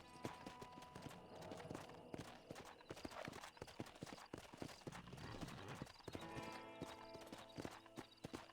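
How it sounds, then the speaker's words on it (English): Horse hooves clip-clop steadily in a video game, with an occasional neigh, layered over a busy game soundtrack and other effects. "I really hope this is my horse."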